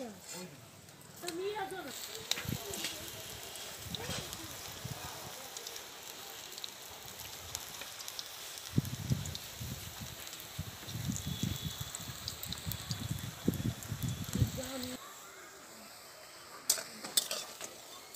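Radish-greens pakoras frying in oil with a steady sizzle while a utensil stirs and scrapes the pan in repeated strokes, someone talking over the cooking.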